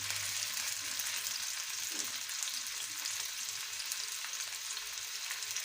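Chicken gola kabab frying in oil on a medium flame, a steady, even hiss and crackle held close throughout, with no voices.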